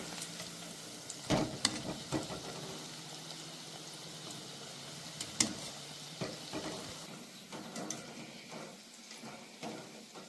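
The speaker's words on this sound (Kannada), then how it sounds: "ಒಂದು ಸ್ವಲ್ಪ ಗ್ಯಾಸನ್ನು ಸ್ಲೋ ಇಟ್ಟ ಚಲೋ ತಂಗಿ ಫ್ರೈ ಮಾಡ್ಕೋಬೇಕಾಗ್ತೈತೆ ರೀ" Gunda bajji fritters frying in oil over low gas at a roadside stall give a faint steady sizzle with scattered clinks and scraping knocks, with no voices.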